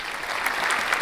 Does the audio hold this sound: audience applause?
yes